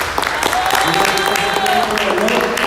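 Congregation at a Thursday Cristo Vivo community church assembly applauds a first-time visitor, a dense steady clapping spread over the whole moment with some voices mixed in.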